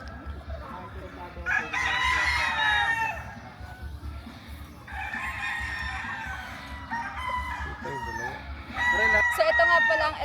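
Gamefowl roosters of the Lancy de la Torre secret white line crow repeatedly at close range, several long calls overlapping amid clucking and background voices.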